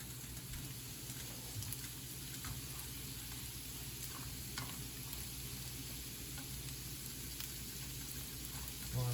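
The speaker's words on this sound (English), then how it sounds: "You want to let that cook down so you can see through the onions." Onions frying in butter in a pan, a steady soft sizzle and crackle that stays quiet and even throughout, with occasional faint ticks and no talking.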